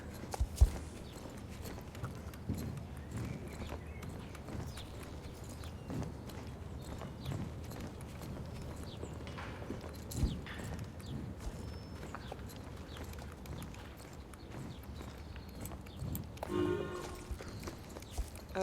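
Pony hooves clip-clopping at a steady walking pace in the video game Star Stable Online, soft and close under a low ambient bed, with no talk over them.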